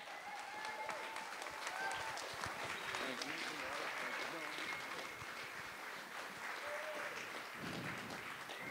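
Church congregation applauding a guest pastor during an Encounter service, sustained loud clapping with scattered cheers and voices mixed in throughout.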